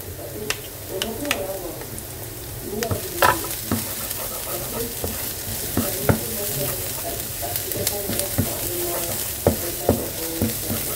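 Onion and garlic frying in a pan for shakshuka, a steady close sizzle with frequent scraping and clicking stirring strokes throughout.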